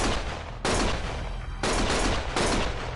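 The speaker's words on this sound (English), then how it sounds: "Stop shooting!" Gunfire in the video game Lost Judgment: loud, dense bursts of shots in continuous volleys, with brief shifts in intensity across the stretch and no talking.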